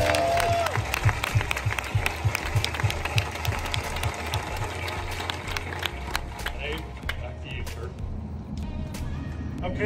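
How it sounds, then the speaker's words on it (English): An outdoor crowd claps at the grand opening of the Kid Flash roller coaster at Six Flags Over Georgia. The moderate applause is mixed with speech and a rhythmic mechanical clatter early on, then thins out. "let's please give a big round of applause for all the men and women that built this ride and made it happen."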